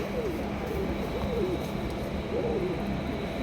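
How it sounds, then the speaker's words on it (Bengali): A black Beauty pigeon coos softly a few times in drawn-out rising and falling calls, set against a steady background hum, with faint talk around. "এখানে রয়েছে চমৎকার একটা ব্ল্যাক কালার বিউটি কবুতর"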